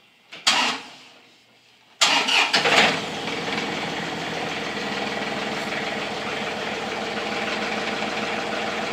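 A compact John Deere tractor engine cranks briefly, falls quiet, then catches with a loud burst and settles into a steady, rumbling idle for the rest of the stretch.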